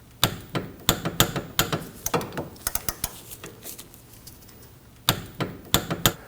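Torque wrench tightening rear brake caliper slide pin bolts on a 2003-2006 Subaru Baja during a parking brake shoe job, giving a loud, close series of sharp ratcheting clicks in rapid bursts with a pause before a final few clicks.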